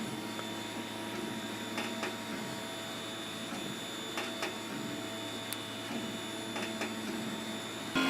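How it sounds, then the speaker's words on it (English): A large 3D printer with a particle-board print surface runs a print, giving a steady mechanical hum and whirr with faint intermittent clicks and motor whines, fairly quiet and continuous. "my first real print after calibrating Z height"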